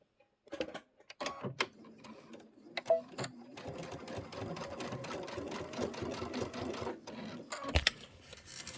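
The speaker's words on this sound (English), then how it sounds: "I am just going to rotate it and sew those two sides together." A sewing machine stitches two fabric sides together in a close, steady rapid rattle of needle strokes, after a few starting clicks and a short pause, with no talking.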